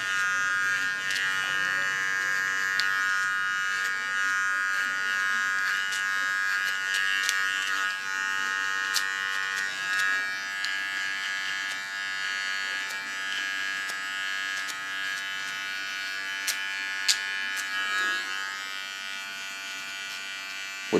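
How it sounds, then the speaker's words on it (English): A small electric hair clipper tidies the sides of a short pixie haircut, giving a steady, close, high-pitched buzz that runs unbroken for the whole stretch with only slight shifts in tone and no voices. "With the tip of the clipper I clean the hairs that I don't need on the sides."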